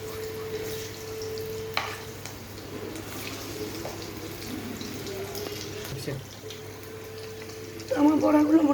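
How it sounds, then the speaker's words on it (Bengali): Poppy-seed fritters fry in a pan of oil with a steady low sizzle under a constant hum, swelling into a fuller crackle near the end as they are turned. "এবার আমার পোস্ত বড়াগুলো একটি ভাজা হয়ে গেছে।"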